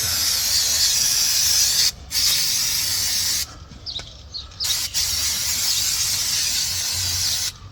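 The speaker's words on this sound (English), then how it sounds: "So I'm going to use brake cleaner, brake and clutch cleaner on mine" Brake and clutch cleaner sprays onto a car brake caliper in long loud hissing blasts, broken by short pauses and a few quick bursts, very close with no talking.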